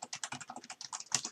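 Rapid, steady keystrokes on a computer keyboard as network router commands are entered, a quick run of close, crisp clicks with no talking.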